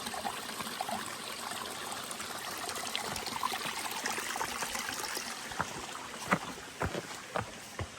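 A stream flows through a forest crossing near a beaver dam, a steady soft wash of running water with a few brief louder splashes and knocks near the end.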